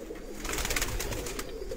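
A slate-coloured male pigeon coos close by, a soft, low, brief call against quiet surroundings.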